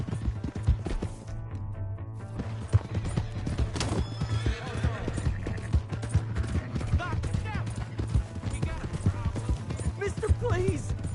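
Horse galloping in Red Dead Redemption 2, a rapid, continuous run of hoofbeats close up with neighs breaking through, under a steady low hum, with raised voices talking and shouting over the gallop.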